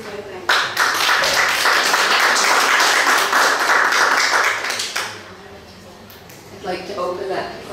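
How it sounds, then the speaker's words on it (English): An audience applauds at the end of a medical talk on retinoblastoma, dense steady clapping for several seconds that then fades out, followed by a voice speaking. "I'd like to give an extra clap for Bhavna"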